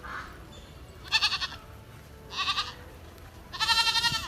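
A young goat, a kid, bleats three times in short wavering cries spaced about a second apart, fairly quiet against a soft outdoor background.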